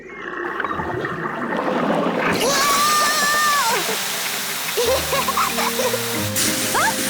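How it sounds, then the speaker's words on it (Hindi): Cartoon garden hose water sprays in a rushing, splashing burst during a car wash scene with pigs, loud and continuous, with squeaky cartoon voices and music cues over it. "और डैडी पिग ने पानी शुरू कर दिया।"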